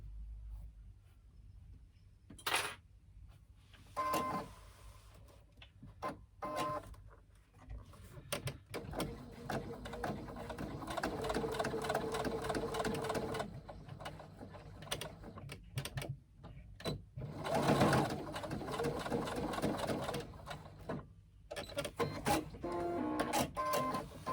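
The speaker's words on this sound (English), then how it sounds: "we are going to baste the edge of that strap to the top of that panel" A sewing machine bastes a tote bag strap onto the top edge of a fabric panel, running in short whirring bursts of stitching separated by quiet pauses, close and fairly soft.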